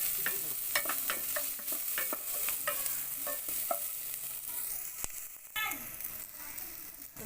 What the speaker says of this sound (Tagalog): So kailangan gisahin muna yung sibuyas at bawang.